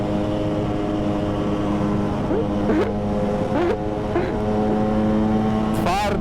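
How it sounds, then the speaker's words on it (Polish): A small motor scooter drones past close by, its engine pitch sliding up and down over a steady background hum. "O, ziomeczek na skuterku jedzie."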